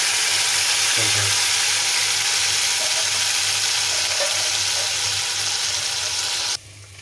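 Chicken frying in a pan for a ponnaganti leaf dal, a loud, steady sizzle that runs unbroken for about six seconds before dropping off, with a low hum underneath.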